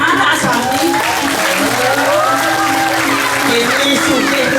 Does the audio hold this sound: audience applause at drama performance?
yes